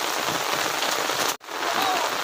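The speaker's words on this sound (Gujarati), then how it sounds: "વરસાદ જબરો પડો" Dense, steady hiss of heavy rain pouring onto surfaces nearby, broken by one brief dropout.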